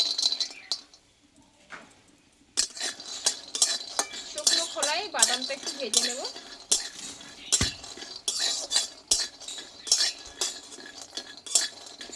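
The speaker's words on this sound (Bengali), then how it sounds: "এখানে কিছুটা আমি চিনে বাদাম নিয়েছি এটা ভেজে নেবো আমি" Metal spoon scraping and clinking against a hot kadai while peanuts roast, a string of sharp rattling strokes with short pauses, close and fairly loud, a brief voice heard partway through.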